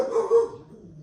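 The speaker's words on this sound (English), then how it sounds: "That would be my dog barking at something, if you can hear it" A dog barks a couple of times at something off in another room, the yaps fairly faint and short, ending within about a second.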